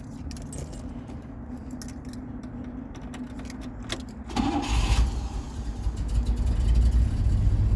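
A 1960 Pontiac Bonneville convertible's engine cranks and catches after a few seconds, then settles into a loud, steady idle close by.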